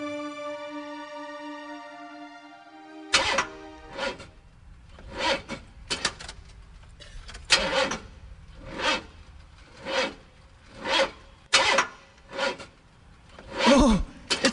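A car starter cranks over and over without the engine catching, giving a run of rhythmic raspy bursts about once a second after a steady droning tone fades out.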